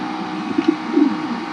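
Checker pigeons give a few soft, low coos close by over a faint background hiss, brief and quiet with no talk.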